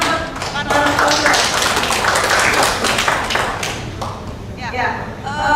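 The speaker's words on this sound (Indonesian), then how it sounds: "Kita tepuk tangan untuk para sponsor." An audience at an economic outlook discussion event claps for the sponsors, a dense burst of hand claps with people talking loudly over and around it.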